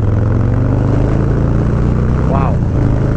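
A Harley-Davidson Low Rider S fitted with a TBR 2-into-1 exhaust pulls hard under acceleration, a loud, deep, continuous engine drone with rising harmonics heard up close, while a voice speaks over it.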